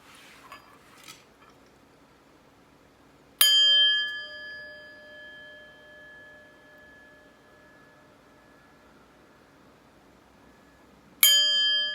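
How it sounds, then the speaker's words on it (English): Two clear metal chimes, struck before a tarot reading, each giving a bright ringing tone that sustains and slowly fades, the second strike coming about eight seconds after the first in a quiet room. "But first, let's chime."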